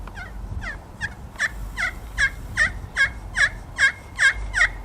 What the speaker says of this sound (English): you're having the striker on top of the surface of the slate, and you're going to make contact